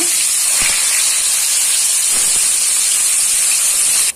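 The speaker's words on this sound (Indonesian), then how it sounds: "Nah untuk tempenya ini saya goreng ya." Tempeh fries in hot oil with a loud, steady, close sizzling hiss that runs unbroken for several seconds before stopping abruptly.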